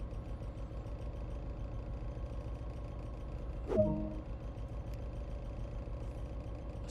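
A locomotive engine in the Train Sim World game runs with a steady low idling drone, broken once midway by a brief clunk and a rising whine, with no voices.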